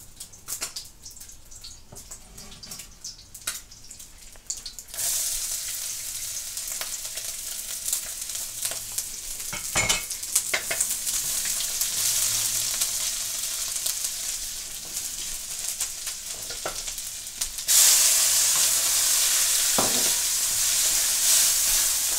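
Scallion and ginger hit hot oil in a wok, bursting into loud, steady sizzling that swells further partway through, with occasional clatter of stirring; no talking.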